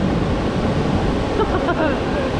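Water flows over rock at the Fonts d'Algar waterfalls on the Costa Blanca, a steady broad rushing roar that stays loud and even throughout.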